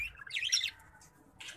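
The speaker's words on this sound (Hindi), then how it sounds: "ये चिड़िया हमारी ऑस्ट्रेलियन" Pet Australian birds in an aviary give a quick burst of bright, high chirps followed by a second short twitter, fairly close and moderately loud with no talk.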